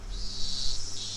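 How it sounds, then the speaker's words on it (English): Cicadas drone in a dense, continuous buzz that fills a room in the game Higurashi When They Cry, steady and loud with no pauses or voices. "The voices of the cicadas permeating my room"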